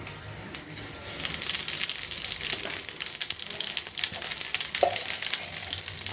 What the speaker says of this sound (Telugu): ఆవాలు ఎండుమిరపకాయలు ఒక రెండు వేసుకున్నా